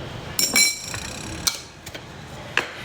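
A metal spoon clinks against a cup while adding sugar to coffee, giving a few sharp, bright taps spaced about a second apart, close and fairly quiet with no talking.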